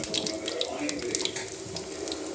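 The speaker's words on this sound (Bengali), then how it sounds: "এবার দিয়ে দিচ্ছি একে একে সবজিগুলো" Vegetables, radish first, go into hot oil in a wok already seasoned with bay leaf, dried chillies and five-spice, producing a loud, steady hissing sizzle close by.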